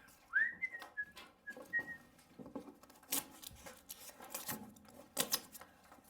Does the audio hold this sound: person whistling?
yes